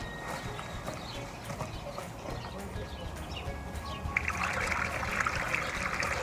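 A small pond pump switched on sends a steady trickle of water over constant background noise, the splashing growing louder and brighter partway through.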